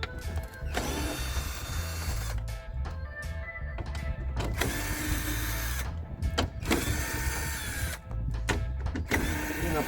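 A Chevrolet Aveo T250 window regulator is unscrewed with a power tool, giving repeated short whirring bursts and ratcheting clicks broken by brief pauses, close and fairly loud.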